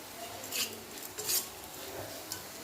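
Bitter gourd sabzi stirred with freshly ground masala in a pan, a spoon scraping and clinking against the metal in a few short bursts over a soft low sizzle, close and fairly quiet, with no talking.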